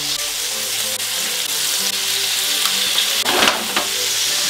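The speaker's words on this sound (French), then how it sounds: "Donc on peut bien cuire la viande, car mon bacon n'est pas cuit." Bacon and meat patties frying in a pan, a loud, steady sizzle with crackling spits and a brief burst of sharper popping near the end, close up with no talking.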